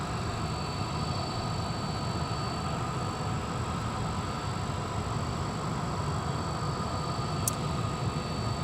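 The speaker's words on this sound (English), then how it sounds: "that engine noise that you're hearing off in the distance, that is from the Pratt & Whitney PW4000 turbofans on Delta 258 Heavy and A330-200" Distant Pratt & Whitney PW4000 turbofans on a Delta Airbus A330-200 at Minneapolis airport, a steady low, faint broadband rumble held throughout with no talking.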